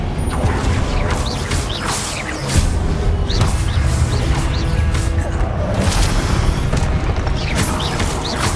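Blasting spells in the Hogwarts Legacy video game burst in repeated booms and crashes over rumbling combat noise and whooshing effects, loud and continuous.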